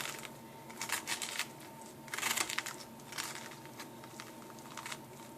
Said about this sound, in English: So I'm just going to take a spoon and scoop those out the best I can.